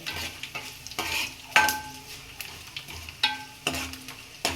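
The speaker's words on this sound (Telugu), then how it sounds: "నాలుగు ఎండమిర్చి పిలుచుకున్నాను కదా అది కూడా వేసేసుకున్నాను" Dried red chillies fry in hot oil with a soft, constant sizzle, broken by repeated scraping and knocking as a spoon stirs the pan every second or so.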